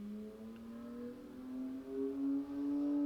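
A motorcycle engine revs at moderate distance, its pitch rising and falling in a couple of surges over a low hum, fairly faint and with no talking.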